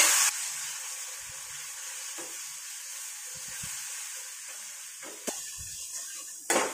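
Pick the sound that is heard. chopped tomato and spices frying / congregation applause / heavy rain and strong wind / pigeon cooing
chopped tomato and spices frying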